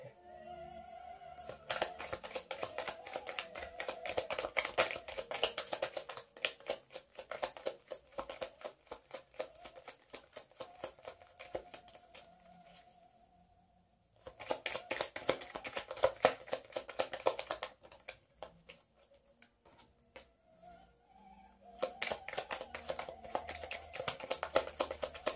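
A deck of tarot cards is shuffled repeatedly at close range, dense riffling and soft tapping in long bursts separated by short quiet gaps, with a faint steady tone beneath.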